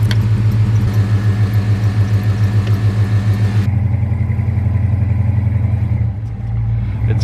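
A big 4x4 camper van's engine rumbles loud and close as it backs slowly out of a tight, tree-lined campsite in the Grand Canyon of the East, with a steady low throb that settles near the end.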